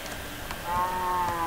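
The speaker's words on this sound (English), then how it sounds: "Hi, cow." A cow in Minecraft moos once, loud and close, a sustained lowing tone that starts partway through and holds to the end over a steady game background.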